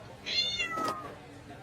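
A cat meows once, a clear drawn-out call, fairly close and alone against a quiet background.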